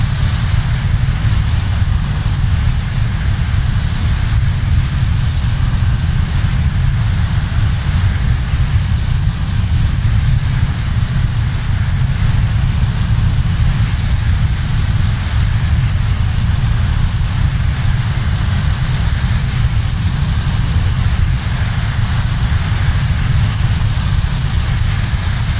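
Engines of the Just Flight RJ airliner, a four-engine jet in Microsoft Flight Simulator, drone in cruise as a steady, loud, low roar with a faint whine above it, unbroken throughout with no talk.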